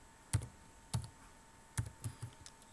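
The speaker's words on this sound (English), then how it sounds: "I'm going to type a first name, say Onika" Several separate keystrokes on a computer keyboard while a first name is entered into a profile, soft clicks spaced irregularly across a quiet room with no talk.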